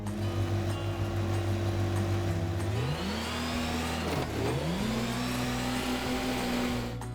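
A big tractor pulling a small milk trailer in Farming Simulator 25 gives a steady mid-pitched engine hum that climbs through gear shifts, dips, then settles back into a sustained drone.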